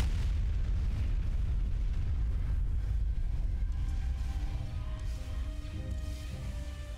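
Heavy artillery barrages thunder continuously in the Phoenix Rising mod of a strategy video game, a dense low rumble of overlapping blasts and bursts that stays loud throughout and eases slightly toward the end.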